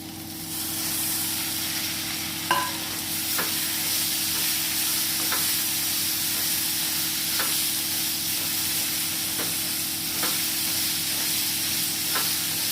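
Onions and tomatoes sauté in a pan: a steady, loud broadband sizzle runs throughout, with sharp spatula scrapes and taps against the pan every second or so and no talking.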